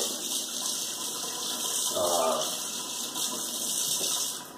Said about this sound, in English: I just need to wash this off.